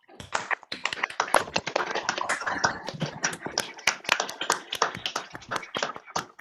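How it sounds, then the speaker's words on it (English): Seminar audience breaks into a round of applause, many hands clapping densely and continuously at close range for several seconds, with no talk over it. "everybody will be delighted to unmute and give you a quick round of applause"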